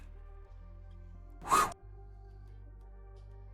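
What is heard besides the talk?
sound effect of an arrow flying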